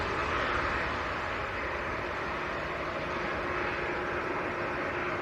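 An EasyJet airliner departs Manchester Airport bound for Dalaman, its engines a steady, broad roar that holds level and unbroken throughout, heard alone at moderate distance.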